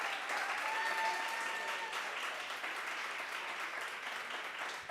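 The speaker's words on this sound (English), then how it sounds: "if we can give them all a round of applause" Sustained applause from an audience at a Catholic school gala ball, a dense steady wash of many hands clapping at moderate distance that holds evenly before tapering slightly toward the end.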